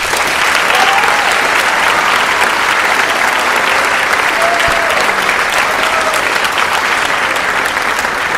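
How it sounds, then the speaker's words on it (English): A middle school audience at an eighth grade recognition ceremony gives sustained, loud applause for student leaders, a dense even wash of clapping that fills the whole stretch without a break. "Please give these awesome leaders a round of applause."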